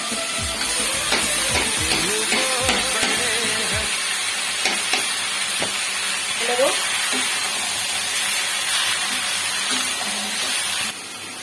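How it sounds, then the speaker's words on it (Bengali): Malabar spinach (pui shak) in a pan gives a steady, close sizzling hiss that runs the whole time, with a few utensil clatters near the start. "এবারে পুঁইশাক ভাজাটা দিয়ে দেবো।"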